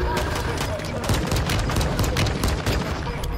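Rapid bursts of video game gunfire fill the mix, dense and loud throughout, with excited voices talking over the shooting.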